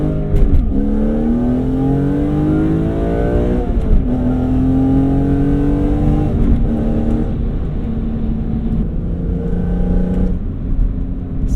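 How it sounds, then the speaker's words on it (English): A BMW S54 engine breathing through a carbon fiber intake, revving hard several times. Each rise in pitch is followed by a drop, with a loud, close induction roar and no talking. "Such a glorious sound out of the intake."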